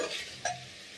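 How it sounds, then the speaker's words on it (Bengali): Spice paste with ginger paste and salt frying and being stirred in a pan: a soft broadband sizzle with one brief louder scrape of the spoon partway through, quiet and close, no voices. "আদা বাটাটা দিয়ে দিলাম, দিয়ে একটু ভালো করে কষে নেব"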